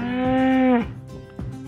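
A dairy cow gives one loud, close, drawn-out moo that swells and then cuts off, followed by quieter outdoor sounds of the herd.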